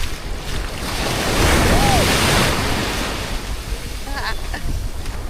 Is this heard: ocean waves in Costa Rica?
yes